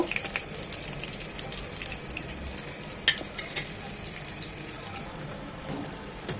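Chicken pakora with green chillies fries in hot oil, giving a continuous crackling sizzle with occasional sharper pops and stirring clatter. It is close and moderately loud, with no talking.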